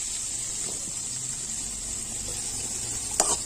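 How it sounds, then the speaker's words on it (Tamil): Tomatoes sizzling as they are added to a hot frying pan with green chillies, a faint steady hiss of frying with a brief clatter near the end, no voices. "இப்போ நிறைய வச்சுருக்க தக்காளி சேர்த்துக்கலாம்"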